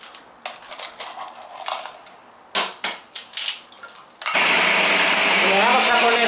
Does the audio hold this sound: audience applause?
no